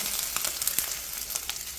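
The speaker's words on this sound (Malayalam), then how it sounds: "കുറച്ച് എണ്ണ ഒഴിച്ച് കടുക് പൊട്ടിച്ച് കറിവേപ്പില ഇട്ട് തേങ്ങ ഇട്ട്" Oil crackles and pops in a pan, a steady fizzing sizzle dotted with quick sharp spits, close by and with no one speaking.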